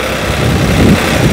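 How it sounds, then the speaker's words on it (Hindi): Running engine of a 56-20 tractor out in a village field, heard as a loud, close, steady rumbling roar with a dense broadband rattle and no pause or change in pace. "यू ट्रैक्टर है 56-20 यू ट्रैक्टर है भाई"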